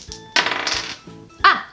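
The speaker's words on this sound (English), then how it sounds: "and roll my dice again." Dice rolled by hand for a solo roll-and-write pinball board game: two short bursts of rattling clatter on a table, the first longer, the second brief, close and fairly loud.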